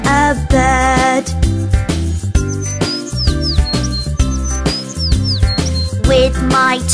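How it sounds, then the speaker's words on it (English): Bright, quick bird chirps sound in short rising and falling bursts, several in succession, set against a lively children's song with steady music underneath. "I can hear a bird"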